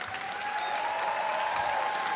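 A concert audience gives a special round of applause for Dr. Roland Carter at a tribute performance on the life of Dr. Martin Luther King, Jr., a full, steady wash of clapping from a large crowd.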